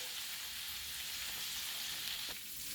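Steady, crackling sizzle of salmon frying in a hot pan, continuous and close, with no voices.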